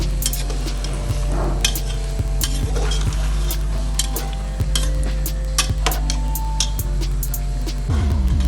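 Dal mash is stirred and fried in a pan. Metal scrapes and clinks at a regular rhythm over a low, constant background hum.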